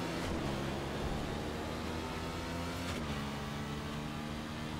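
A motorcycle engine in the racing game The Crew revs continuously at a strained, buzzing pitch, steady and fairly loud against a noisy wash of game sound, with no talking.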